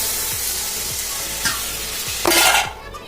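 Dried fish and bean curry sizzling in a pan as water is poured in, a steady frying hiss broken by a few soft stirring scrapes, then a louder splash and burst of bubbling before it quiets.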